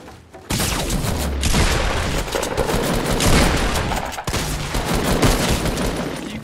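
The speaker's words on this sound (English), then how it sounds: "Not one of my shots hit." Dense gunfire fills a Fortnite match, a loud sustained barrage of overlapping shots and booms with brief gaps, close and continuous for several seconds.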